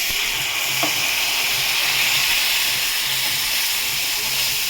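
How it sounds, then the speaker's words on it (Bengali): A little water poured into a hot pan of fried onions with chilli, turmeric, cumin and coriander powders, giving a loud, steady steaming sizzle and hiss that fills the whole stretch close up, with a faint tap early on. "সামান্য জল ঢেলে দিলাম।"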